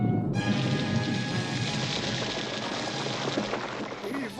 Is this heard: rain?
yes